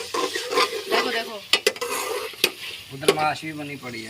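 Potato and tomato vegetable curry is stirred in a pan, with scraping strokes and sharp utensil clacks against the pot over a soft frying sizzle, close and busy.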